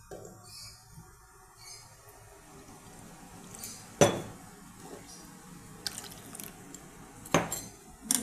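Gram flour mixed with water is stirred in a bowl in a home kitchen. A spoon gives a few sharp, isolated clinks against the bowl amid faint, quiet liquid sounds.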